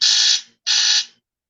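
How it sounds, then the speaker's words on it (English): An alarm sounds two loud, harsh electronic buzzes of about a third of a second each, separated by a short gap, alone and then falling silent. "that was an alarm to tell us to end the show"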